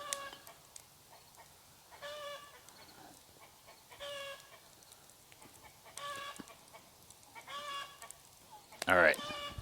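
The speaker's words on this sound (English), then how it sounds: "Please don't mind my chickens." Backyard chickens clucking in short repeated bursts, moderately near, with a sharper squawk near the end; quiet outdoor background between calls.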